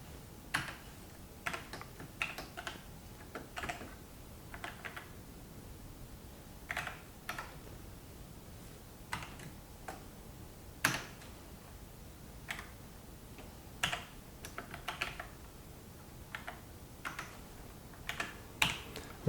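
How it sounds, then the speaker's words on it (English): Irregular clicking of fingers typing on a computer keyboard, bursts of keystrokes with short pauses, close and fairly quiet, no voices. "Excuse my typing."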